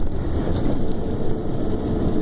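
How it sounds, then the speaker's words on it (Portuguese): A Mercedes-Benz LS1935 truck engine revs in neutral, a loud, steady, close diesel roar that holds at a constant level throughout, with no one talking. "Você tira a marcha e dá uma aceleradinha."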